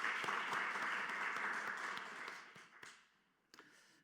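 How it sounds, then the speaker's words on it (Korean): A church congregation applauds warmly during a Wednesday worship service, the clapping holding steady before thinning out into a few scattered final claps. "우리 축복하고 격려하는 박수 한번 더 하도록 하겠습니다"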